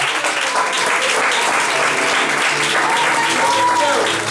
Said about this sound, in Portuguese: Dê uma linda salva de palmas, Senhor Jesus.